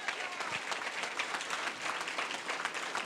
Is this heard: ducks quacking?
no